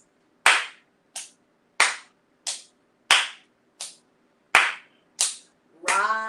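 Eight sharp hand claps in an uneven chugging pattern, imitating a train, followed by a voice starting to sing.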